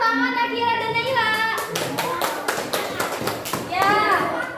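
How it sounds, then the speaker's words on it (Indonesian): Children clap in a group at a class activity, a run of sharp, uneven claps in the middle, with children's voices chattering before and after. "Beri tepuk tangan Akira dan Naila."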